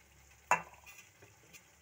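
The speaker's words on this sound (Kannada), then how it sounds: "ಆಫ್ ಮಾಡಿಬಿಟ್ಟು ಮೊಸರನ್ನ ಬೆರೆಸ್ತೀನಿ" Curd being stirred into avarekalu majjige huli after the stove is switched off, a single sharp scrape of a spoon against the pot followed by a few faint, scattered clinks in a quiet kitchen.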